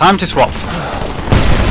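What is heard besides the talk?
gunfire from the video game Homefront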